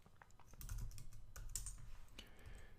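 Keys clatter on a computer keyboard during Linux terminal command entry, with quick irregular clicks and small bursts of faint, close typing and no voices.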